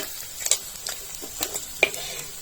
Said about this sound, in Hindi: चलिए फिर से हम गराई डालते हैं फ्राई के लिए